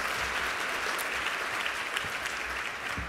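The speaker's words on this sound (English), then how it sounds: "let's give a round of applause to our funders and sponsors" Dense applause from a conference audience at an annual gathering in Aspen, steady and fairly distant, filling the whole stretch without talk.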